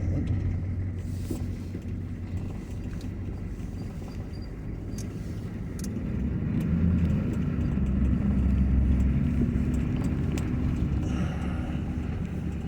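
A 1988 GMC Sierra pickup, needing new wheel cylinders, drives along with a steady low engine and road rumble that swells slightly toward the end, with wind buffeting the microphone.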